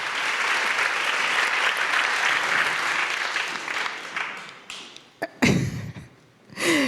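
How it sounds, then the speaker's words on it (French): Audience applause at the InterL 2024 conference, a dense wash of clapping from a large crowd that holds steady, then thins out and breaks into scattered claps and a few louder bursts near the end. "je vous demande de l'applaudir"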